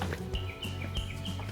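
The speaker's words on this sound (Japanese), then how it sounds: "野鳥の声が聞こえて気持ちいいですね。" Wild birds sing along a mountain trail between Mt. Takao and Mt. Jinba, with a steady, high-pitched whistling song repeating several times in quick phrases over low outdoor background noise.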